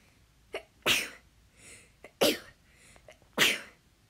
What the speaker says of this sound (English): That was a bad time to sneeze.